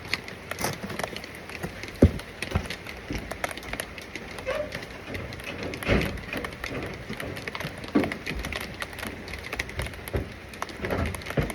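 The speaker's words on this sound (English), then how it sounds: "it's not that much rain, it's not coming down hard, but it's annoying." Light rain patters steadily outdoors by a pickup truck, a continuous fine hiss with scattered drop taps and occasional louder knocks, no talk over it.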